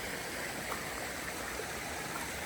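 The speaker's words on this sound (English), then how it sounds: "got a nice little water crossing here" Flowing stream at a water crossing on the Appalachian Trail, a steady close rush and trickle of water with no talk.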